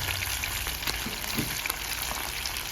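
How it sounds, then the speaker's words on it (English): A continuous crackling sizzle of fish frying in hot oil in a pot, Jamaican style, steady and close throughout. "And then we have some more frying in the pot."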